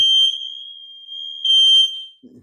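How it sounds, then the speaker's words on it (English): A fire alarm sounds in a building with a shrill, piercing electronic tone that holds for over a second, dips, then rises again briefly before cutting off, followed by a short low murmur. "And Nick's got the fire alarm."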